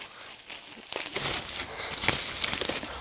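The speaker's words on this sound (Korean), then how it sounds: "비닐을 뜯어 보겠습니다" Crinkling and tearing of plastic vinyl packaging wrapped around a new children's balance ball bike, a run of close, loud rustling rips and crackles that grows louder after the first second.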